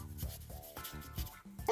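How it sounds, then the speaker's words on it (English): A rock is hand-scrubbed with detergent to clean dirt from its crevices before tumbling, giving close, rhythmic rubbing strokes in short bursts with brief pauses, and no talking. "Put a little bit of detergent on there, and you just scrub it, making sure you get all of the dirt out of the crevices."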